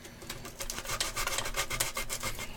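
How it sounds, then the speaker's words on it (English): Steady back-and-forth scraping as sandpaper is rubbed by hand over wood. The strokes are close, quick and rhythmic, with no voices. "Just keep sanding."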